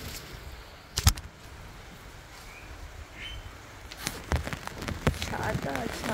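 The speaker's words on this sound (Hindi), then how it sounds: "बारिश दिखाती हूँ मौसम यहाँ का, ये बारिश हो रही है।" Steady rain falls outdoors at a home, a soft continuous patter with a few louder close knocks and thumps, while someone talks intermittently over it.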